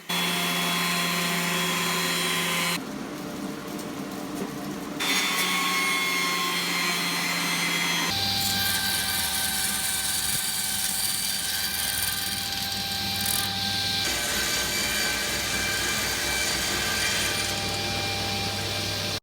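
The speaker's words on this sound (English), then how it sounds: "I flattened and squared up 2 adjacent faces on each piece with the jointer. And then ran them through the thickness planer to flatten the opposite sides." Jointer and thickness planer flatten and square boards in a workshop, making a loud continuous whine and roar that shifts between machine passes and keeps going with no pauses.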